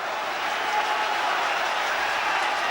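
A football crowd at a Manchester United versus Exeter match, heard as a steady, wide wash of cheering and applause that holds evenly from start to finish, with no single voice standing out.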